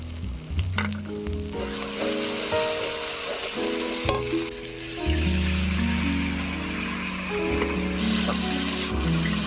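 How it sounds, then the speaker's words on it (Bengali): Spices like Kashmiri chili, cumin, coriander powder and salt fry in oil in a pan for tel koi curry made with live koi fish, giving a loud, steady sizzle with stirring throughout and a constant tonal hum underneath. "এবার মশলাটাকে ভালো করে কষিয়ে নেব"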